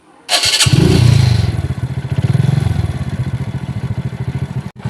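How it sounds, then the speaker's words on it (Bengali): A motorcycle is started near the microphone, with a short burst of cranking followed by the engine catching and settling into a steady, loud, throbbing idle that runs to the end. "আগে বাইকটা স্টার্ট করি"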